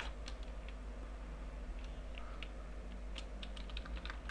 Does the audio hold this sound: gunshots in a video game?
no